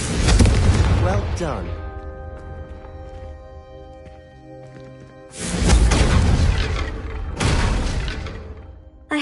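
Confringo fire spells blast in Hogwarts Legacy, three loud booming bursts with fiery crackling tails separated by quieter gaps, and a voice speaks briefly between them.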